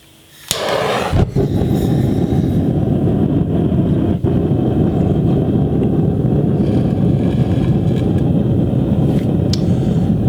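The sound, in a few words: propane foundry furnace burner lit with butane torch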